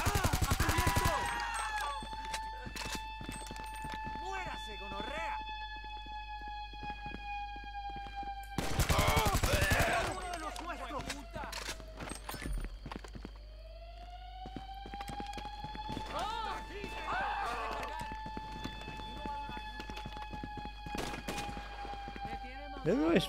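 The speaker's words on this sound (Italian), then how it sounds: "Da dove sparano? Dalle finestre." Gunfire bursts in a video game heist mission, sharp loud rattling volleys near the start and around the middle, with an alarm tone sounding throughout and scattered clatter between shots.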